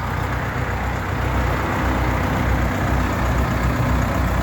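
A 45-horsepower tractor engine idles with a steady, low, rumbling drone, close and even throughout.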